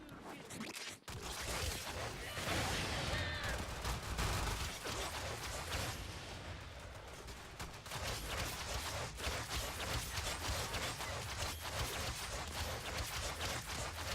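Rapid weapon fire from a gun in the video game Warframe, a dense, continuous stream of shots with mechanical clatter running loud throughout, briefly dipping near the start.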